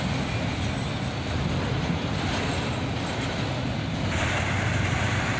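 A CSX freight train, with an ES44AH locomotive trailing at the end, rolls past as a steady, loud broadband rumble of wheels and cars, unbroken throughout.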